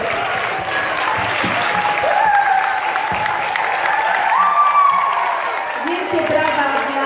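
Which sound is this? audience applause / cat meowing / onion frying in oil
audience applause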